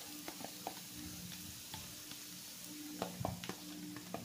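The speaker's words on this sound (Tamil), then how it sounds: "அதே பேனில் போட்டு நல்லா பரட்டி மிக்ஸ் பண்ணி விட்டுக்கிறேன்" Sweet corn kernels sizzle while being stirred and fried in leftover butter in a pan, a steady close crackle punctuated by scraping stirs and light clinks, with no talking.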